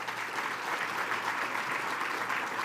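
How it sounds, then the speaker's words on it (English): Sustained applause from a business summit audience during a mayor's State of the City address, an even, moderately distant wash of many hands clapping throughout. "Please give that gentleman a round of applause."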